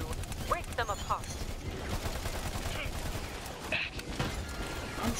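Rapid gunfire in the Battleborn video game, dense continuous bursts of shots with game effects layered over them, while a voice talks over the shooting.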